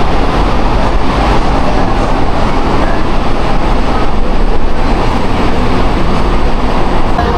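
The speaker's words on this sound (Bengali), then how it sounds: "আমাদের ট্রেনের স্পিড এখন 105 কিলোমিটার গতিবেগে ছুটছে এই বাংলার এসি লোকাল" A Bengal AC local train out of Sealdah runs at about 105 km/h, heard from inside as a loud, constant rumbling roar with dense wheel and track noise throughout.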